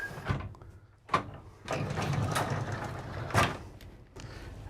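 A sliding privacy door in a Newmar Dutch Star 3717 motorhome slides along its track and shuts, with rumbling rolling noise and a few sharp knocks and clicks, close by.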